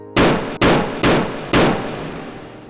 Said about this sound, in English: The deafening sound of gunfire echoed through the air.